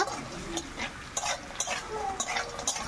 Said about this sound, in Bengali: ভেজে রাখা বড়িগুলো আলুতে দিয়ে দেব, দিয়ে একটু নাড়াচাড়া করে নেব